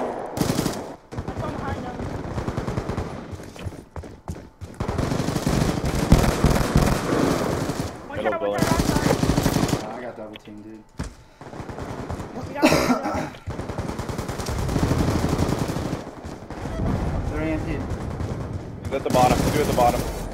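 Call of Duty assault rifle fire in a Hardpoint match, repeated rapid bursts of close gunshots with short gaps between them and voices talking over the shooting.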